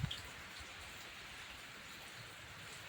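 Rain falls steadily outdoors as an even, soft hiss of drops on surfaces, continuous and fairly faint with no thunder.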